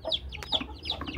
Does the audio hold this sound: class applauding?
no